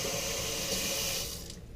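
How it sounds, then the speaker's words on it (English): An acrylic Hawley retainer model placed into hot water produces a continuous, loud rushing splash-and-hiss of water that fades toward the end. "I'll now put that model in some water."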